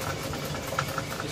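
Upholstery sewing machine driven by an AC motor with a clutch, stitching seat upholstery for a Cushman golf cart: a steady, close mechanical hum and whir with faint rhythmic ticks, no voices.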